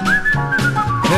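A man whistles a bright, sliding melody from a 1969 German song, close and clear over a bouncy accompaniment with a steady low bass pulse.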